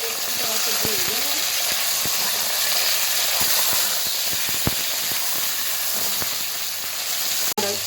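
Chicken pieces fry in a pan of hot oil for restaurant-style biryani, a loud continuous sizzle and hiss close by, with occasional sharp clinks and scrapes of stirring.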